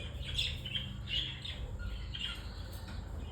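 A male cockatiel gives several sharp, shrill squawks in quick succession, close and loud over a steady low background hum, with no voices.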